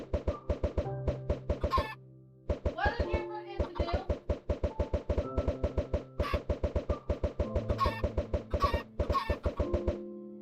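Minecraft chickens clucking in quick, regular bursts, with many short pulses filling the stretch and a brief gap near the start, while a voice talks over them at moderate level.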